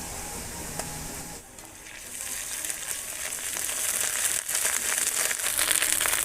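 Ginger and cumin pastes sizzling with fried onions in a pan for a Sundarbans crab curry, a steady close crackle with a brief dip near the start, no talking.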